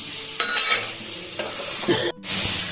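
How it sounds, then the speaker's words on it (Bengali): Potatoes and prawns stirred together in a pot for biryani, close scraping and stirring over a steady sizzle, with a brief cut to near-silence before the frying resumes. "আমি আলু আর চিংড়ি মাছগুলো মিশিয়ে দিলাম"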